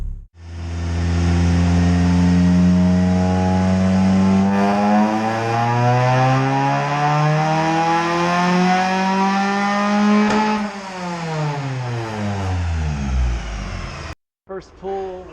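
A 3rd-generation Honda Prelude, a $600 car, revs hard on a dynamometer; the engine note climbs steadily, dips once at a shift, then climbs again to a loud high-rpm peak before cutting off abruptly.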